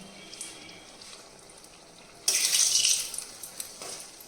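Koi fish being rinsed under a running tap, a steady splash of water that suddenly grows louder and brighter partway through, then eases off, close by with no talking.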